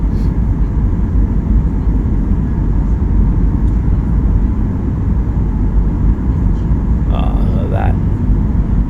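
Steady, loud airplane cabin drone on approach to landing, a constant broadband engine and air roar filling the whole stretch, with a faint brief tonal chime near the end.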